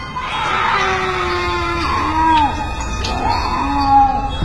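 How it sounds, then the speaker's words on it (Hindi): Screams and wailing cries rise and fall from inside a hospital in an animated story. Several drawn-out, moaning voices overlap and sound loud and close. "तभी हॉस्पिटल के अंदर से चीखने चिल्लाने की आवाज आने लगती है।"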